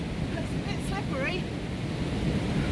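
Sea waves wash at a stony seaside shore as a continuous broadband rush, roughened by wind noise on the microphone, with a few faint bird-like chirps early on.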